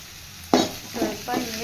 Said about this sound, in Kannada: ಹಿಂಗೆ ಟೊಮೆಟೊ ಮತ್ತು ಈರುಳ್ಳಿ ಎಲ್ಲ ಫ್ರೈ ಮಾಡ್ಕೋಬೇಕು.